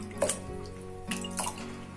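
Homemade paneer is rinsed in a bowl of plain water, producing soft close-up splashes and a couple of light drips, quiet and brief with no talking.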